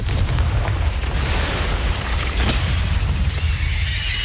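A Confringo spell blast in Hogwarts Legacy, a loud, booming explosive rumble with crackling debris that fills the whole stretch, ending with a shimmering magical ring.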